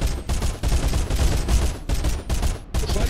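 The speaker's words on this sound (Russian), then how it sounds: "Чего он стреляет" Bursts of automatic gunfire in the survival game Sunkenland, loud and close, coming in several rapid volleys separated by brief pauses.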